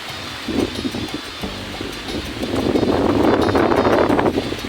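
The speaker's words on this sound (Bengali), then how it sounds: "এখনো বাতাস হচ্ছে প্রচুর পরিমাণে" Strong wind blows outdoors over a farm plot of storm-damaged tomato seedlings after heavy rain, a loud steady rush and buffeting against the microphone that swells louder toward the end.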